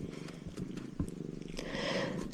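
A cat purrs close by in a quiet room during cross-stitch work, a soft, rhythmic rumble pulsing steadily at low level with a few faint rustles.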